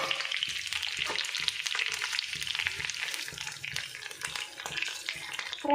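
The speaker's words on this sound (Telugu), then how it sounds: "ఇప్పుడు మనం వేసుకున్న ఆయిల్ బాగా హీట్ అయింది. మనం ఇలా కట్ చేసి ఉంచుకున్న పచ్చిమిర్చి ఇందులో వేసుకోవాలి." Chopped green chillies fry in well-heated oil in a pan, giving a steady, close crackling sizzle with scattered pops, heard alone without talk.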